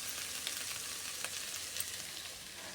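Ingredients sauté in a pan for fish curry, giving a soft steady sizzle with faint stirring scrapes, fairly quiet and without voices.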